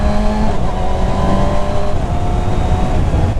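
Engine of a 2019 Kawasaki ZX6R motorcycle running loud and close, a steady, dense mechanical drone with a faint shift in pitch partway through.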